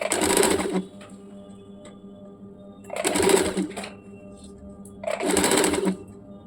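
A sewing machine stitches small pleats into the upper panel of a baby umbrella frock, running in three short bursts of rapid whirring separated by pauses, close and steady.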